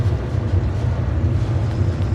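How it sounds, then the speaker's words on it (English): Steady, loud hiss of steam rushing through pipes in an indoor area of the video game Skyrim, a continuous low rumbling roar with no pauses and no voices. "You can hear the steam going through all the pipes and all that."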